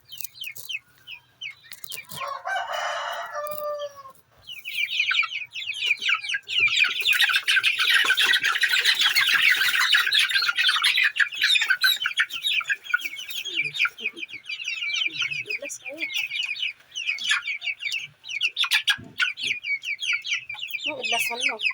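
Chickens clucking and squawking nonstop at close range, a dense busy flock chatter with a burst of louder calls early on.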